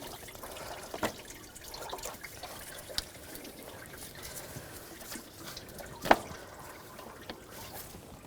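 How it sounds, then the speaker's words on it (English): Coolant from a 2004–2009 Audi A4 Quattro 2.0L I4 engine dripping and trickling after a pipe is pulled out, a soft continuous liquid patter with a few sharper isolated drips standing out near the microphone. "more coolant can drip out"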